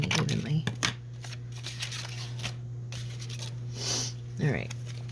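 Scissors snip through pieces of solid-colour paper for journal cards, soft close crinkles and cuts over a steady low hum, with a person talking throughout.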